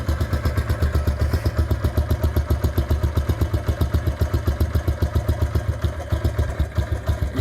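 A Yamaha YBR motorcycle engine idling at low rpm after a carburettor tune, a close, loud, even single-cylinder putter with rapid regular pulses and a slight mechanical clatter throughout, no voices.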